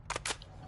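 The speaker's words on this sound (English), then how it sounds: "Loading fresh mag." Reloading a fresh magazine in a Call of Duty-style video game: a couple of quick, sharp mechanical clicks and clacks close together, followed by a faint tick, short and fairly quiet.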